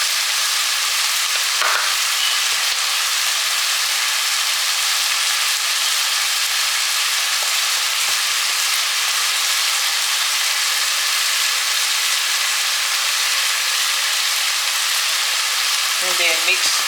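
Food frying in a pan for chili makes a steady, loud, even sizzle throughout, with a few faint scrapes as it is mixed and flipped, and a voice briefly near the end.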